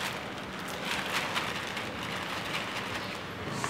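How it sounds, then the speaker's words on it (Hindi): Heavy monsoon rain pours down outdoors as a dense, steady hiss that stays even and moderately loud throughout, with no voices. "जितना कल धुआंधार हो रही थी उससे भी ज़्यादा धुआंधार आज बारिश हो रही है"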